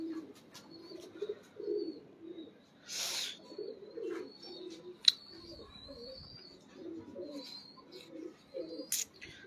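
Sharmely pigeons coo in soft, repeated low burbling phrases throughout, with occasional sharper chirps and a few clicks nearby, fairly quiet overall.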